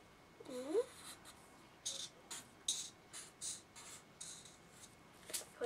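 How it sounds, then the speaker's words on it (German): Pen or marker scratching on paper as a snowman's hat is drawn for a Christmas craft, with short, faint strokes repeating in bursts through a quiet room and a brief voice early on. "Wir malen einen Hut."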